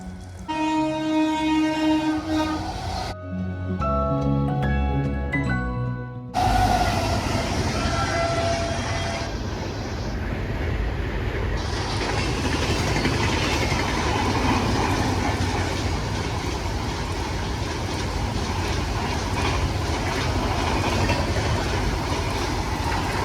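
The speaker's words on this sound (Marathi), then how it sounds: "शतावरी ट्रेन येते." A passenger train on the Konkan line rumbles in and rolls past with a steady loud roar and clattering, after a burst of horn-like tones at the start; voices murmur faintly in the background.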